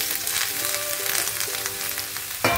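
Chopped bottle gourd hits hot oil with cumin in a pan, giving a loud, steady sizzle with some stirring and a sharp clatter near the end, close and without talk.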